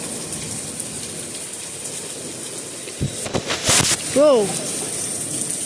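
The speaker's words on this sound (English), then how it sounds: "I think it was big lightning strike." Heavy rain pours steadily during a big storm, then a sharp crack and rumble of thunder from a nearby lightning strike breaks in at about three seconds, loud and close, with a voice exclaiming briefly under the storm.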